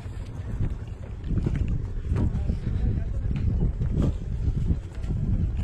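A boat moves on open blue sea off the Sundarbans coast, a rumbling, wind-buffeted wash of water and motion that stays fairly loud and even throughout, with a person speaking over it.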